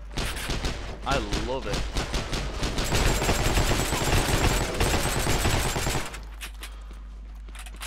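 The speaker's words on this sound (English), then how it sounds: "Oh, this Tommy gun." Tommy gun firing in the WWII online shooter Heroes and Generals during a factory warehouse assault, rapid loud bursts of automatic fire over about six seconds with someone talking over it, then the shooting stops.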